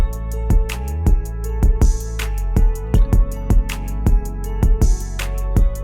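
A hip-hop instrumental beat with punchy kicks, crisp hi-hats and sustained melodic synth chords, looping steadily at a mid tempo with no vocals.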